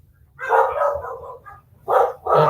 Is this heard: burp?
no